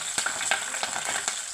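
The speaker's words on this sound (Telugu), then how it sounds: "ఇవి వేగిపోయి ఇందులోని పచ్చిమిరపకాయలు, కరివేపాకు వేసేసుకుందాం" Green chillies and curry leaves sizzle in hot oil with mustard seeds, cumin and dried red chillies, a close, steady frying crackle broken by sharp pops and stirring scrapes.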